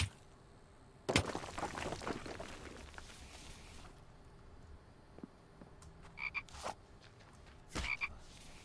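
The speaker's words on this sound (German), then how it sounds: "Da drüben ist schon wieder ein Frosch." A frog croaking in the survival game The Infected: several sharp, separate croaks spaced out over a faint outdoor background, with no talk.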